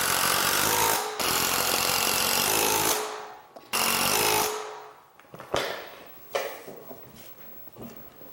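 A power driver sinks 1.5-inch screws into a cabinet face frame in a woodshop, with several long, loud whirring bursts early on, then shorter intermittent spurts and pauses near the end.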